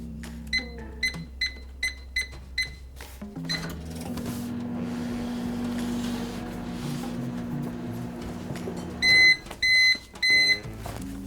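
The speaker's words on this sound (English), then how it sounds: "Pop it in the microwave." A microwave oven's electronic beeps repeat in quick succession, then its steady low hum runs for several seconds, ending with a few louder beeps.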